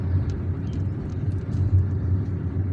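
A car drives through the Bab El Oued district of Algiers, its interior engine and road rumble steady and low, with no voices.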